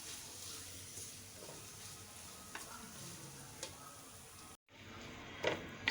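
Eggs fry in a pan for veggie noodles, with a steady sizzle under repeated stirring scrapes and a short break before a few sharper clatters near the end.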